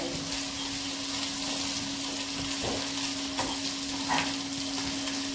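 Garlic and ginger sizzle steadily in a hot pan while a utensil scrapes and stirs now and then, close up, over a constant low hum.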